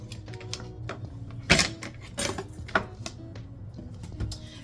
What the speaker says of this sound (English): Okay, now we're going to cut up our onions.